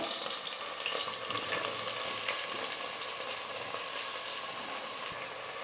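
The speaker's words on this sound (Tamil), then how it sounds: "3 பெரிய வெங்காயம் எடுத்து நீல வாக்கல் கட் பண்ணிக்கிட்டு இந்த வெங்காயம் சேர்த்துக்கிறேன்." Three large onions, sliced lengthwise, fry with green chillies in a pan, giving a steady, even sizzle that stays fairly soft and close throughout, with no voices over it.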